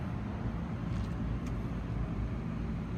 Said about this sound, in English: That John Deere motor sounds great.